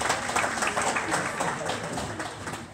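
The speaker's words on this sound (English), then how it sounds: "put those hands together and give God a hand clap of praise" Church congregation clapping hands in praise during a sermon, a steady dense patter of many hands sustained throughout at moderate level, with no speech over it.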